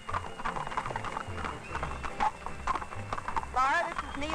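Horses' hooves clip-clop steadily across the ground at a moderate distance, while people talk over the rhythmic clatter.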